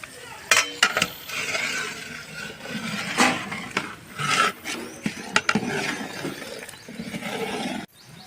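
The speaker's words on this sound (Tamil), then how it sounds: "தண்ணி நல்லா கொதிக்குது ஒரு முறை கலந்து விட்டுக்கலாம்" Scraping and swishing of a utensil stirring boiling water in a large pot for a 6 kg mutton biryani, irregular strokes with a few sharper knocks, fairly close and continuous.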